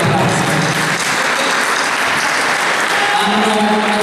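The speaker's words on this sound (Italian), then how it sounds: "voglio ringraziare Michele, Giuseppe, un grande applauso" Loud, dense applause from the crowd at a live music night, many hands clapping in a continuous roar with a few voices rising underneath toward the end.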